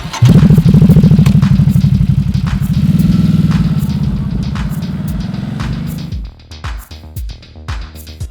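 A Ducati SuperSport 950S motorcycle revs loudly and steadily under a rider, its engine note holding strong before easing off and giving way to a few clattering bumps near the end.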